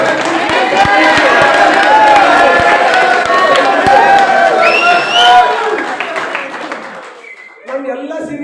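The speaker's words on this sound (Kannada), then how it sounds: "ಒಂದ್ಸಲ ಜಾಧವ್ ಸರ್ ಅವ್ರಿಗೆ ಚಪ್ಪಾಳೆ ಹಾಕ್ರಿ." A seated audience at a business coaching session applauds for Jadhav sir, loud continuous clapping mixed with crowd noise and overlapping voices, tapering off toward the end as talk takes over.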